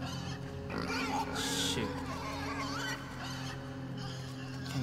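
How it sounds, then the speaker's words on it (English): Pig grunts and oinks from the video game INSIDE, a close, harmonic snorting squeal over a steady game soundscape, with a brief word of speech at one point. "Okay, the pig killed me."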